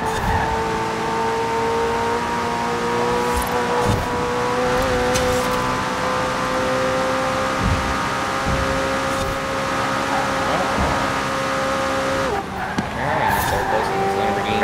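Lamborghini racing cars in a Forza game on the Goliath circuit, a loud sustained engine drone that climbs steadily in pitch with a gear change near the end, under talk.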